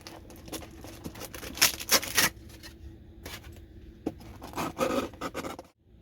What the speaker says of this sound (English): So take all the styrofoam out.